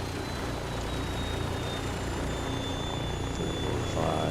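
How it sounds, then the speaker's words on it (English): A Douglas DC-3 radial engine starts up in Microsoft Flight Simulator 2024, producing a steady, loud, rough drone with a faint whine running throughout. "And we have an engine start"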